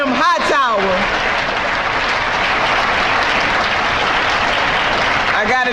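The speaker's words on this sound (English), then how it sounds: "can we give a hand clap of praise for Brother Jim Hightower?" Audience applause at the Fighting Bob Fest political gathering in Milwaukee, a dense, steady wash of many hands clapping that fills the room and holds evenly throughout, with brief voice-like tones at the start and end.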